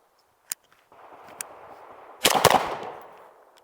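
A 5.56 rifle fitted with a Southpaw suppressor fires at an outdoor range: a couple of small sharp cracks, then a louder muffled report with a trailing rumble.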